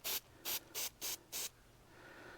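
3M headliner and fabric adhesive sprayed from an aerosol can during headliner repair on a classic Crown Victoria, five short, loud, close hissing bursts in quick succession, then quiet.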